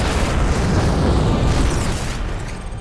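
Spaceship weapons fire amid explosions in the space combat game Black Prophecy, heard as a loud, continuous rumbling barrage of booms and bursts throughout, with no talking.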